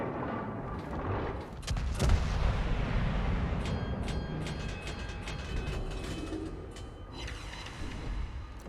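Cannon salvos from the Italian cruiser Gorizia firing SAP shells at the battleship Missouri in a naval warfare game, a steady heavy rumble with repeated sharp distant firing cracks throughout.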